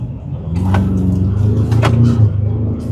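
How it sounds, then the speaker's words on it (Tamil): A Ford Everest engine pulling at full throttle from a standstill gives a loud, close, steady drone and roar that builds slightly across a few seconds, with no speech over it. "ஃபுல் பெடல் டவுன் பண்ணியிருக்கேன்."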